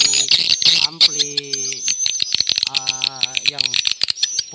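Swiftlet calls played through an amplifier at a bird-farming setup: rapid, loud chirps and clicking rattles in bursts, with someone speaking through parts of it.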